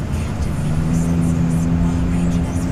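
A 1995 Honda Accord wagon's engine hums and revs as the throttle is worked, a steady loud motor drone with a rising tone, close and continuous.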